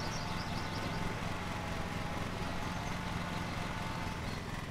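A black mulching lawnmower engine in Lawn Mowing Simulator drones at a steady, fairly quiet level, an unbroken mechanical hum with no change in pitch or rhythm.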